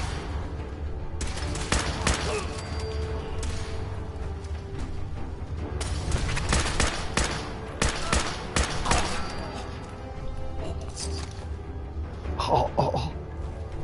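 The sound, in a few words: gunfire from gunners in video game Fallout 4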